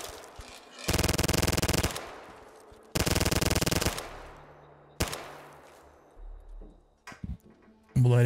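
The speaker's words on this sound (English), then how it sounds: "I think that's a ceiling turret." A ceiling turret in Fallout: Tale of Two Wastelands fires in two long, loud rapid-fire bursts, each about a second long. Single sharp shots and scattered clatter follow, with no talk.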